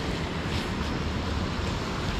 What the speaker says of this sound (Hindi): काफ़ी पानी की कलकल बहती आवाज़